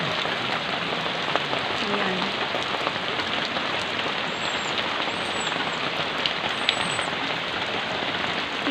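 Heavy rain pours steadily onto surfaces in a dense, continuous hiss, with a few faint, high chirps above it.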